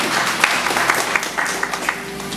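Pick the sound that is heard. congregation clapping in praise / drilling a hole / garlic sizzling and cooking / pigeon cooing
congregation clapping in praise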